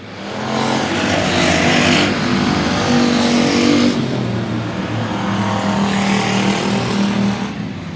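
Race cars roar around a dirt speedway oval during a last-lap battle, engines swelling and fading as the pack passes, with rising revs, a brief tire squeal and a loud continuous drone throughout.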